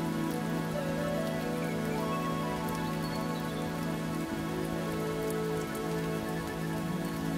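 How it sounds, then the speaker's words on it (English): Rain falls in a steady, even patter, with constant dense drops striking a surface and no change in intensity from start to end. "You can carry on listening to the rain"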